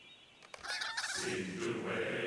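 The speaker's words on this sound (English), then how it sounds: "These chickens keep me busy." Poultry calls from the Lord of the Rings Online game, loud and continuous for a couple of seconds, with gobbling, turkey-like bursts rising over a steady farmyard background.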